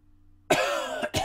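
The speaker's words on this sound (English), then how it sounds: "I'm trying to cough away from the mic" One sharp, close cough after a quiet moment, followed by a brief second burst.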